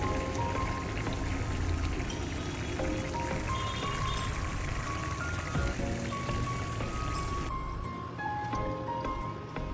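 Fried rohu fish pieces go into a pan of cucumber curry that is nearly done, giving a steady close sizzle and bubbling hiss that runs throughout and softens slightly toward the end, with no talking.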